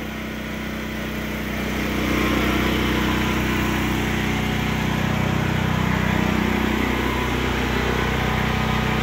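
A Predator 8,750 portable generator drones steadily and loudly, muffled inside a shed, with the pitch rising slightly early on and holding constant after.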